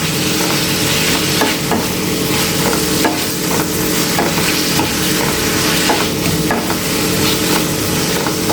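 Spinach stems with turmeric sautéing in a pan for a spinach sambar, giving a loud, steady close sizzle and frying crackle throughout, with repeated stirring scrapes and no talk.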